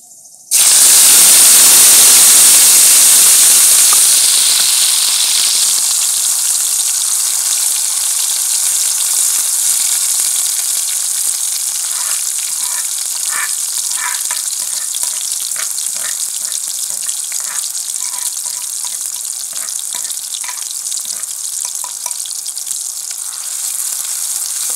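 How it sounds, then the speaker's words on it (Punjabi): Chopped tomatoes hit hot oil in a pan for a village-style Punjabi soybean dish and erupt into a loud, close sizzle that settles into a steady, hissing fry with faint stirring clicks. "ਟਮਾਟਰ ਆਪਣਾ ਕੁਛ ਫਰਾਈ ਹੋ ਗਿਆ"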